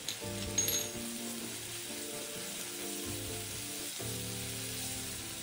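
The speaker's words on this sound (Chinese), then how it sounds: "炉重开，低火拌一拌炒" Filling for spinach green dumplings, seasoned with oyster sauce and salt, is stir-fried on low heat with a soft, continuous sizzle under gentle background music.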